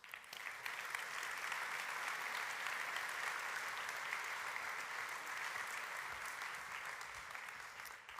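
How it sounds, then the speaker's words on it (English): A keynote audience in Basel applauds steadily to welcome Professor Luciano Floridi, a dense, even wash of clapping from a crowd that sounds somewhat distant and holds for several seconds before tapering slightly at the end. "Please welcome with an applause Professor Luciano Floridi."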